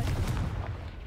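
Confringo blasting spell cast in Hogwarts Legacy, a dense, loud rumbling blast that fills the moment and then decays over about a second, alone with no talk over it.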